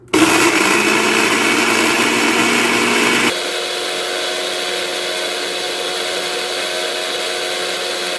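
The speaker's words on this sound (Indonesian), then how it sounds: "Lalu di blender ya sampai halus" A blender grinds biscuits, whirring loudly at high speed with a coarse rattle at first, then settling into a smoother, steady motor drone.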